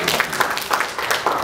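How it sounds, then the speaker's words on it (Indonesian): Church congregation applauding during a Sunday worship service, a short, loud, dense burst of clapping from a full room. "Tepuk tangan yang dahsyat."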